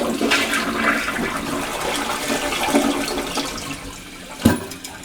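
Project Source elongated 10-inch rough-in toilet flushing with the handle held down, a long sustained rush and swirl of water up close, ending in a sharp clunk as the handle is released.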